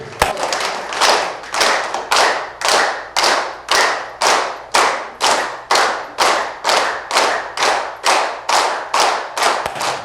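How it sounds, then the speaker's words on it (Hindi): Laughter yoga hand clapping: firm, close claps land in a steady, even rhythm, about two per second, continuing alone without talk. "लेकिन हास्य योग में इस तरह से ताली मारी जाती है।"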